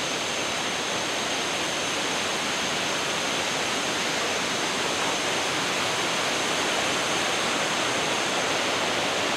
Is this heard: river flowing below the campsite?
yes